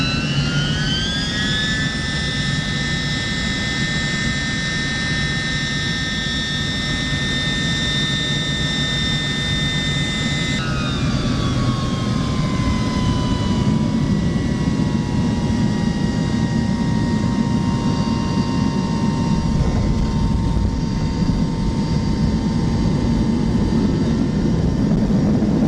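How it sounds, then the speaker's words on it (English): An Air Koryo airliner's jet engines roar loud and close through a landing approach into Pyongyang, a sustained screaming whine with steady tones that drop in pitch partway through over a continuous broadband rumble. "It was one of the screaming, the loudest noise I ever heard from an engine."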